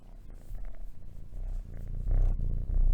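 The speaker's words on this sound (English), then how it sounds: "And she's a loud purr." A domestic cat purrs loudly and steadily throughout, a close, continuous low rumble with no talk over it.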